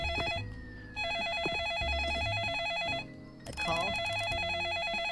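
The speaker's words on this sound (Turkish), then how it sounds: "Telefon çalıyor." A phone ringing inside the Roblox game The Sleepover Experience, a repeating electronic trill over game music and background sounds, with a brief burst of other game noise partway through.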